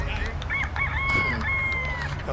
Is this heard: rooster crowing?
yes